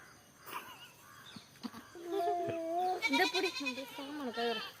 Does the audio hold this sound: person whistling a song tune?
no